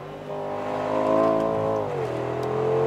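A 2025 Mercedes G63 AMG accelerating hard, its engine roaring up in pitch for about a second and a half, dropping briefly on a gear change, then pulling again, heard loud from inside the car.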